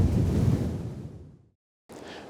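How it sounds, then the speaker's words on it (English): Very strong wind on a Scottish island path roars and buffets against the microphone in a loud gust, drops to sudden silence, then returns. "But that was a very, very strong wind."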